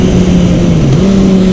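Motorcycle engine running loud and close during engine braking, its steady drone dipping briefly then the revs rising sharply as it downshifts.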